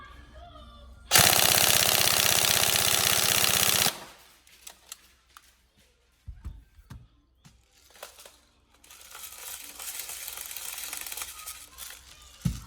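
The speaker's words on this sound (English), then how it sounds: "you see the rate of fire there on a fully charged battery is pretty damn good" An upgraded Tokyo Marui 416D NGRS airsoft rifle fires a loud, continuous full-auto burst of about three seconds, followed by quieter clicks and handling noises, then a softer mechanical whir.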